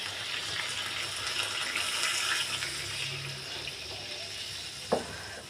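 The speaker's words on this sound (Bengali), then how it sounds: "এখন পরিমাণ মতো পানি দিয়ে মাছগুলো দিয়ে দেব" Water runs into a cooking pan of rohu fish curry with potatoes and pointed gourd, a steady splashing pour at close range, ending with a short clink near the end.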